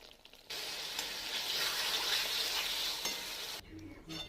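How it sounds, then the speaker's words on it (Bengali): Mixed vegetables with cashew and poppy paste sauté in a pan, giving a steady, fairly loud hiss of frying for about three seconds. Faint stirring comes through underneath, and the hiss cuts off abruptly at the end. "কাজু আর পোস্ত পেস্টও দিয়ে দিয়েছি। ভালোভাবে কষাতে থাকবো।"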